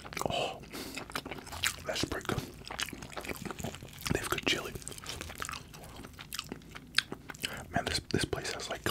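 Chili cheese fries eaten close to the microphone, with dense wet chewing, smacking and soft crunchy bites that continue steadily throughout at an intimate, quiet level.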